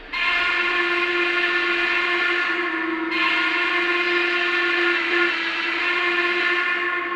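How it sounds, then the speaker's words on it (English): A Lionel VisionLine model Norfolk and Western Class A steam locomotive whistle sounds a long, loud, steady chord, breaking off briefly midway before resuming and holding to the end. "That whistle sounds amazing."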